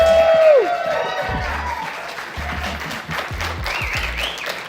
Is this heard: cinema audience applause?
yes